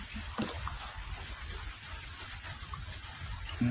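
Rain falls steadily outdoors near a vegetable patch, a soft continuous patter with occasional heavier drops, faint and without speech.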